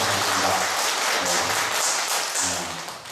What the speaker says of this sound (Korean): 지금 괜히 차분하게 그 박수를 치셔가지고